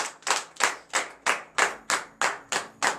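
A church congregation claps in unison at morning prayer, about ten sharp, evenly spaced claps in a steady rhythm, close and clear with no voices.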